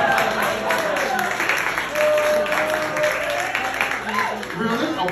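Comedy club crowd clapping and murmuring steadily for several seconds, a dense continuous wash of applause with voices mixed in.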